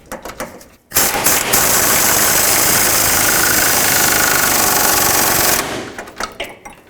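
A pneumatic air impact gun snugs a rear control arm bolt on a 2004-2008 Acura TL, one sustained loud rattling burst of about five seconds preceded and followed by quieter workshop noise.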